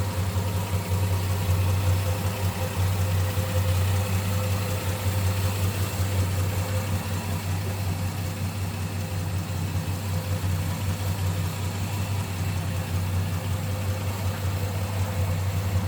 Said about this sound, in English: Again, 225 cubic inch. Slant 6, and it is smooth running.